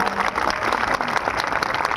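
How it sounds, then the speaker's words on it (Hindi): A crowd at a ceremony honoring martyrs claps vigorously in a brief, dense burst of applause, loud and close throughout. "एक बार उनके लिए जोरदार ताली है"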